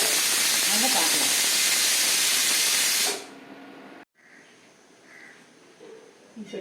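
Grated coconut and dried red chillies for brinjal and black chickpea pitlai roast in a hot pan, a loud, steady hiss that cuts off after about three seconds, followed by quieter room sound with faint speech.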